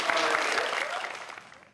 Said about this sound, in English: Let's give a round of applause to the people.